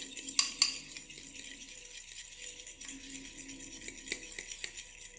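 A utensil stirs an egg mixture in a bowl to break up lumps, giving faint, soft scraping and light clinks with a few sharper taps, all quiet and close with no talking.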